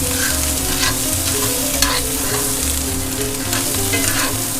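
Onions sauté in butter over medium heat with a close, steady crackling sizzle, punctuated by a few scrapes and soft knocks as they are stirred, no talking.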